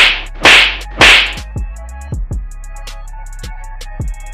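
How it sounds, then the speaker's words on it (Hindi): A loud, sharp slap across a police officer's cheek, two big cracking hits followed by several softer echoing smacks, with no voices. "जैसे ही दरोगा जी के गालों पर लगे थप्पड़ की गूंज सुनाई देती है"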